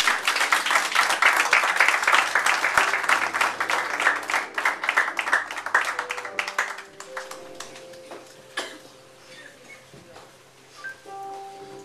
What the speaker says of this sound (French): Accueillons sous vos applaudissements Georges et Lagneuse.